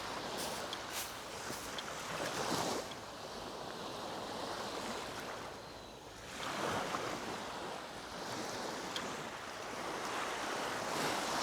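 Sea waves washing onto a Mallorca beach between Torrenova and Magaluf, steady surf with wind buffeting the microphone, no voices.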